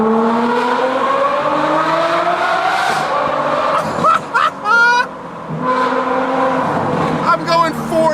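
A Ferrari F12 Berlinetta with a tuned exhaust revs through a tunnel, rising engine notes echoing off the walls, with sharp crackles and pops in the middle and another pull afterward, loud and close.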